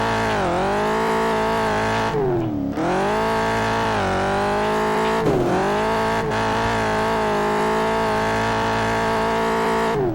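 Big cars in the PS2 racing game Test Drive Eve of Destruction roar continuously at high revs, engine pitch dipping and climbing through turns with brief tire squeals, loud and sustained without talk.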